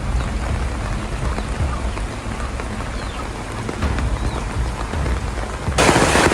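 Steady typhoon rain pours down in a rural area with crops nearby, a dense constant patter close by, swelling louder near the end.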